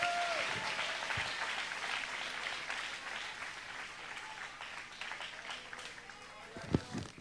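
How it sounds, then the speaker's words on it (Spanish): Audience applause in a church hall at a youth convention, a dense sustained clapping that fills the room, with voices and shouts mixed in and a few louder knocks near the end. "Denle un aplauso al que vive,"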